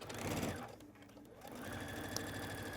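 A sewing machine runs a quarter-inch seam while piecing a quilt block, a soft buzzing hum rising near the end, heard faintly with brief talk early on.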